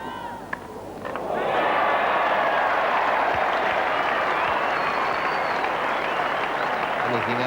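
Cricket crowd at Headingley breaking into broad, sustained applause during a 1986 England v India Test match, rising after a quiet moment with brief murmurs and then holding as steady distant clapping.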